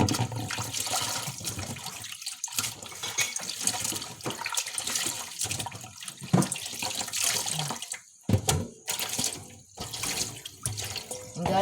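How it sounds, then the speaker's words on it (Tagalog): Tap water runs into a blue water container at home, a steady gushing splash that rises and falls with short breaks, close and moderately loud, with no talking. "kaya nagpundo ko og tubig sa kanang blue nga galon"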